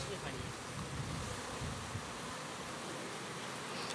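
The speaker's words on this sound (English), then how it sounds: "there's bees flying everywhere" Honey bees flying in numbers around an open hive during an inspection, a faint, steady buzzing hum blended with soft wind noise, continuous and without talk.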